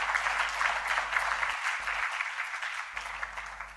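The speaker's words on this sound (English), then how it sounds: "Give them a big round of applause." Audience at an awards ceremony claps steadily in a continuous, moderately loud round of applause with no talking.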